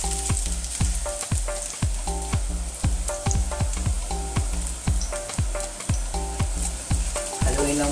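Garlic fries in a pan as a utensil stirs it, a steady sizzle punctuated by regular sharp scraping knocks of the spoon against the pan, close and fairly quiet with no talking.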